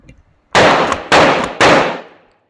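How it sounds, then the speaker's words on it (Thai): Three loud gunshots from a Commando 8.6 firearm at a seven-metre range, evenly spaced about half a second apart, each a sharp close blast with a short ringing decay. "ลองดูนะครับจำนวนสามนัดเนาะเพราะลูกกระสุนมีน้อยแล้ว นะครับ ระยะเจ็ดเมตรนะครับ"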